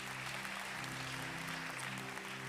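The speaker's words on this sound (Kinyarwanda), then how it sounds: "Dukomere Imana amashyi menshi." A church congregation applauds together, a dense and steady wash of clapping that fills the room without pause and is heard on its own.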